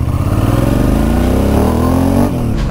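Suzuki V-Strom 650 motorcycle engine running loud and close, a steady throbbing idle that climbs slightly in pitch before dropping back near the end.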